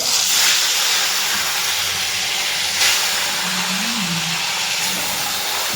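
Taki fish pieces dropped into hot oil in a kadai, a loud broad hiss of sizzling that flares at the start and holds steady, with a faint low hum beneath and no talk.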